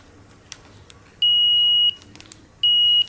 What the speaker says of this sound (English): this is the sound from the multimeter